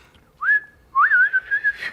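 A single person whistles a rising note, pauses, then holds a second longer note with a wavering vibrato at moderate volume, close and clear with no talking.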